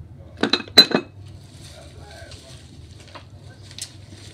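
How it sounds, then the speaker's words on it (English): Ceramic soap dishes clinking together, two or three quick hard clinks close by, then faint light knocks against a low background hum. "The ceramic soap dishes"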